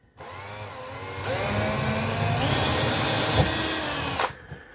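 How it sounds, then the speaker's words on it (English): A power drill fitted with a small bit bores a pilot hole into an arcade cabinet coin door, one steady high whine that rises in pitch partway through, close and loud, then stops abruptly. "I'm gonna start off with a smaller drill bit just to make a little pilot hole"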